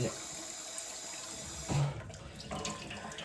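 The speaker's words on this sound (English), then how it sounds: "I'm just going to go straight out the tap" Tap water running into an Air Still Pro still, a soft steady flow heard close up that briefly surges louder midway, with no talk over it.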